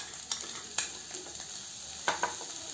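Onion and green capsicum fry over low-medium heat in a pan, giving a continuous soft sizzle broken by a few sharp clinks and scrapes from stirring.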